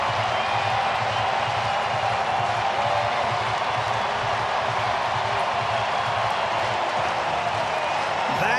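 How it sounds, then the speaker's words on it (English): A baseball stadium crowd roars and applauds after a Blue Jays grand slam against New York, a loud, steady wash of cheering and clapping that fills the stadium, with a broadcaster's voice faintly under it. "The crowd."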